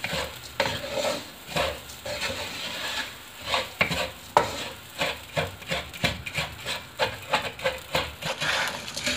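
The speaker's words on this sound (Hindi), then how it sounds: "ये कमर कस और गोंद जो है इसको भी मैंने 2 से 3 मिनट मैंने फ्राई कर लिया" Kamar kas and edible gum frying in a pan, stirred with a wooden spoon in a steady rhythm of scraping strokes over a low sizzle, close and fairly soft, with no talking.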